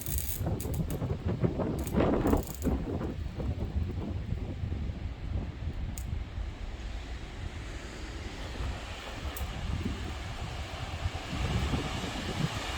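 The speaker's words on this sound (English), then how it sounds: "just an extreme powerful gust. Just hitting that tree line right there." A powerful wind gust roars steadily through a tree line ahead of a storm, a broad continuous rushing wash with mic buffeting and a few faint clicks, no voices.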